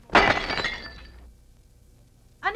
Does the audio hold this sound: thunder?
no